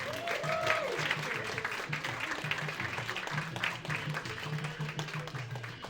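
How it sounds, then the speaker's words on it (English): An audience applauds a guest lecturer at a live science talk show, a moderate, continuous patter of clapping with voices and crowd noise woven underneath. "So start clapping right now for Dr. Greg Matthews"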